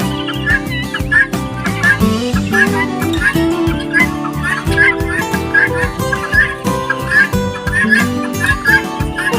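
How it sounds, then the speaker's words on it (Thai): Harsh, repeated guinea fowl calls in a rapid, chattering rhythm from several birds close by, continuing throughout over a busy mix of clucking and background noise. "นี่ครับไก่ต๊อก"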